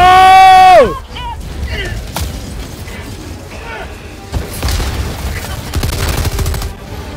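Gunfire in the Helldivers video game, sharp shots and bursts with mechanical clatter following a falling whine, loud and close, with voices talking in between.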